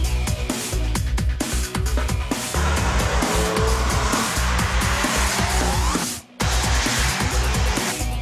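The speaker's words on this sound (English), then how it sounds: "The motor sounds awesome, and it just pulls all the way to the red line." A BMW 1 Series M Coupé driven hard on a track: the loud engine revs up through repeated gear changes while tires squeal and skid, with a short drop-out just past the six-second mark before the engine note returns.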